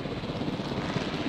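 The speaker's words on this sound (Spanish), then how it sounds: "Helicóptero de la UCA." A helicopter in the video game Jurassic World Evolution gives off a steady, moderately loud rotor drone with a dense low thrum and no voices.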